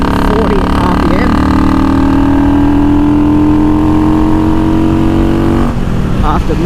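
A Yamaha XVS650 V-twin motorcycle runs close and loud after its carburetors were synchronised and its idle set, a steady throbbing note that rises gradually, then drops back near the end.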